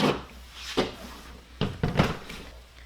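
A Sawgrass SG800 sublimation printer turned around on a table, giving a few scattered scraping, rubbing and knocking sounds, close by and moderately loud, with quieter gaps between them.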